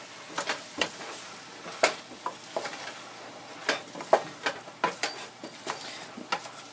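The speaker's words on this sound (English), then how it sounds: "And then stir it up a little bit." A spoon stirs salt and pepper into butternut squash soup in a pot, giving a series of soft irregular scrapes and light clinks against the side, close and quiet with no talking.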